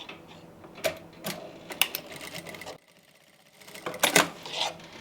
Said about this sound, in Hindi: बिल्कुल किनारी से अब हम यहाँ पे सिलाई लगा लेंगे।